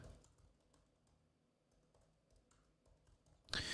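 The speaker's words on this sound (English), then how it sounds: "let me just type this into Google" Quiet, rapid keystrokes on a computer keyboard tap out in an uneven run, ending with a louder burst of noise.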